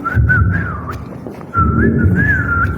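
A person whistles a wavering melody in two phrases, clear and close, over a low murmur of background noise with a short pause between the phrases.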